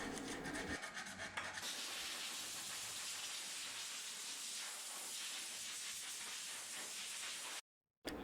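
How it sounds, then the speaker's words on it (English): Steady scratchy rubbing of hand sanding a piece of furniture, close up and continuous, with a brief silent gap near the end. "you're going to move over to some hand sanding"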